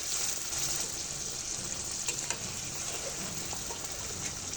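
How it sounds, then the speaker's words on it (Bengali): A little water hits chili powder in hot oil while a young hilsa (jatka) fish curry cooks, giving a steady, close, even sizzle that holds throughout with small crackles. "গুঁড়িটা দেওয়ার সঙ্গে সঙ্গে আমি একটু পানি দিয়ে দেব"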